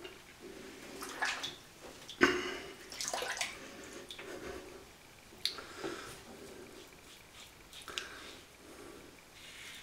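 A razor is rinsed under running water while shaving, with splashes, drips and short bursts of flow from a tap or basin, fairly close and with no talking.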